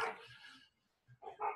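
A few short dog barks come through faintly, with a quiet gap between bursts and a louder cluster at the end.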